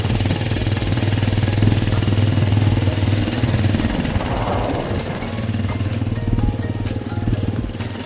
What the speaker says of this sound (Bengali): এই যে আমরা বাইক নিয়ে পাহাড়ে উঠে চলেছি